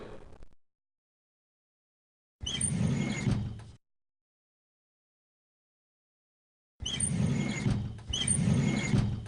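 Drawers sliding open in the detective adventure game Tex Murphy: The Pandora Directive, heard as three short scraping, rolling bursts, one alone and then two back to back, with silence in between.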